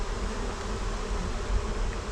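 Honeybees at the front of a hive box buzzing and fanning, a dense, steady, close drone with no other sounds.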